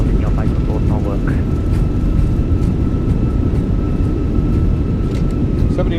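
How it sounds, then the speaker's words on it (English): A loud, steady roar of airliner thrust reversers on landing in Microsoft Flight Simulator 2024, broadband and continuous, with a faint tone above it and talking over the top. "Reversers are out. Decelerating."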